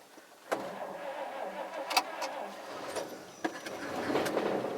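The engine of a 1950 Chevy truck is push-button started: a cranking starter whirrs, then the engine catches, and a steady idle rumbles up, close and fairly loud.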